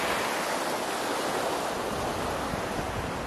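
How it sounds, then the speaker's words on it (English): Flowing water on a snowy mountain hike near Bad Hindelang, Germany, makes a steady, dense rushing hiss close by, continuous and without voices. "Water."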